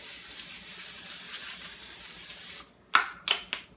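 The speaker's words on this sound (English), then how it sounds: "Using the paper liners, I really recommend a quick spray." A long steady hiss of cooking spray onto a muffin pan lined with paper liners, close up, followed by three short quick spritzes after a brief pause.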